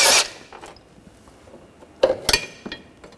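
Metallic clinks and ratcheting clicks of a 21mm wrench and 18mm socket working a lower control arm bolt on a 2013-2019 Ford Escape, a sharp clank at the start and scattered taps later, close and sparse.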